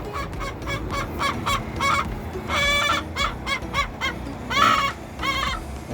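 Chickens cluck and squawk in a busy flock, repeated calls close by with a few louder, longer cries standing out over a dense barnyard hubbub.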